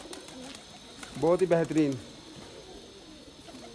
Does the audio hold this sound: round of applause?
no